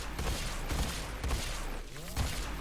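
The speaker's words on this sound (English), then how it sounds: "let's try out this Battacor on these Kuva Guardians" A Battacor rifle fires repeated bursts at Kuva Guardians in the video game Warframe, loud punchy shots in a rapid uneven rhythm over a dense background of game effects.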